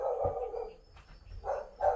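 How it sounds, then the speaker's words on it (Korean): A house dog that barks at visitors, giving several short gruff barks close by, with a pause in the middle before two more barks near the end. "개소리 들리시죠?"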